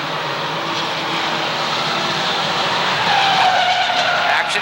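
Mini stock race cars run side by side, door handle to door handle, in a feature race at Waterford Speedbowl, giving a steady loud roar of engines with tire skid noise and a rising whine near the end.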